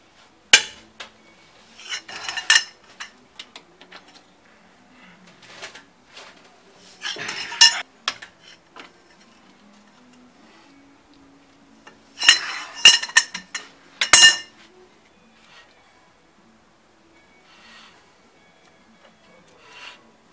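Wrench work loosening the nuts that hold the hub flange and brake disc on a Toyota Land Cruiser HDJ80, heard as several bursts of metallic clinks and clanks separated by quiet gaps, close up with no talking.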